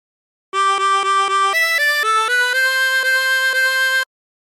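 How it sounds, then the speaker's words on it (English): Harmonica playing "She'll Be Coming Round the Mountain", a run of short repeated breathy notes followed by longer held tones stepping up and down, bright and close with nothing else heard. "practice this until you end up with something that sounds like this"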